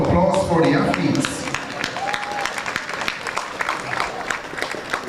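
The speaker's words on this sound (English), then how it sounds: "you can give a louder round of applause for the athletes" A crowd in the stands at the Velocity Fest 18 track meet in Jamaica claps and cheers for the athletes. The applause is steady and fairly loud, with an announcer's voice talking over it.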